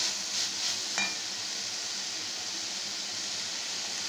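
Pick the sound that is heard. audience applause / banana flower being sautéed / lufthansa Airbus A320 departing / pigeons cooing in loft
banana flower being sautéed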